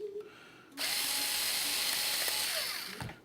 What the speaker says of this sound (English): Just get you a little drill bit just slightly bigger than that.